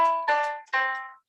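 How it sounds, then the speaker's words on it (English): Two piano notes sound in turn, each struck cleanly and left to ring and fade before the next, quiet and close, with no talk. "so I'm going to play quarter notes for you here."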